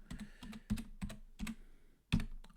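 Data being typed into an Excel spreadsheet on a computer keyboard: uneven bursts of close key clicks with short pauses between groups, ending in a firmer keystroke, no talking.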